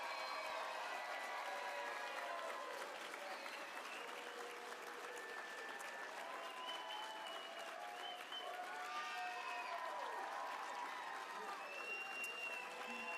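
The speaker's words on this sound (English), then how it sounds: "And one final applause and congratulations for our Spring 2024 graduates." A crowd applauds Spring 2024 nursing graduates at a pinning ceremony, a sustained, dense clapping mixed with cheers and whoops that stays even throughout.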